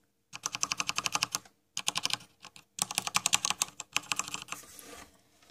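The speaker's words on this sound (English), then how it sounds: "And I'll click the keyboard so you can hear it, and I'll put my mic up to it." Close-miked clicking on a Corsair Strafe RGB keyboard with Cherry MX Red switches, fast runs of key presses in several bursts separated by short pauses, with no voices.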